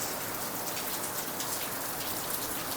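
Rain falls outdoors on a seaside courtyard during a barbecue. A soft, steady patter of drops continues evenly at a distance, with no talking.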